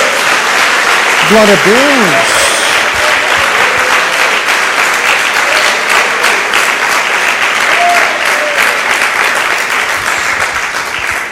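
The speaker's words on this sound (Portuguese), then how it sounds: "Dá uma salva de palmas a Jesus" Church congregation applauding for Jesus, a loud steady wash of clapping throughout, with a voice calling out briefly near the start.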